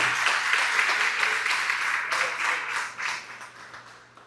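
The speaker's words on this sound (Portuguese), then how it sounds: "Dá um aplauso a Jesus enquanto eu tomo uma água aqui." A church congregation breaks into steady applause during a sermon, broad dense clapping that holds strong and then gradually thins and fades out.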